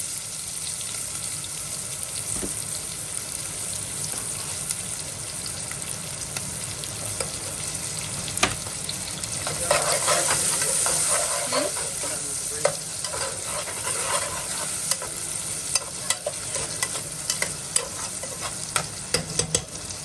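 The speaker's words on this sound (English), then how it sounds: "And then I'm gonna add in some red onions with tomatoes." Red onions and tomatoes fry in a pan, a constant close sizzle with frequent stirring scrapes and clacks, growing briefly louder and wetter midway.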